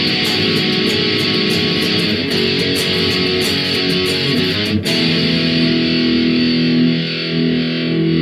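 A distorted electric guitar plays the closing riff of a song, with picked notes, a hammer-on and a muted chug. The guitar is loud and dense with effects, and then a final chord rings out.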